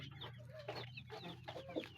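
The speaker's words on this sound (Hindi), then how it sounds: "और अब हमारी ये मुर्गी बहुत ज़्यादा बेहतर है पहले से।" A recovering hen clucking in short, repeated soft bursts, close but quiet, over a low steady background hum.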